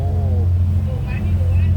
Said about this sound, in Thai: โอ้เรือ 6 ใช้เครื่อง 6 สูบนะครับ 6 สูบ 2 ตัวน่าจะมีเทอร์โบด้วยนะป๋า